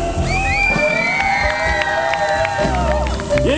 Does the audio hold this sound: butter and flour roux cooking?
no